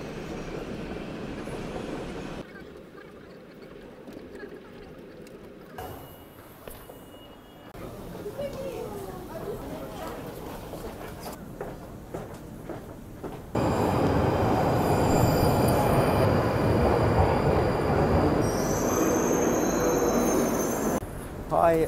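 Train at a railway station bound for London, with rumbling carriages, clattering wheels and some squeal, loud and close in stretches, with someone talking in between.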